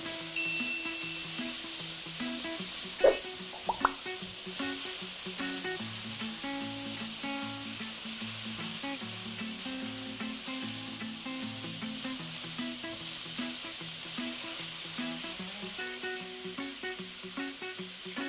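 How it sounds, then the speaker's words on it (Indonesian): Water spinach (kangkung) sizzles and hisses steadily in a frying pan as it is stirred, with a couple of brief utensil clinks early on, while soft background music plays underneath. "Setelah itu, baru kita masukkan kangkungnya. Aduk-aduk sebentar."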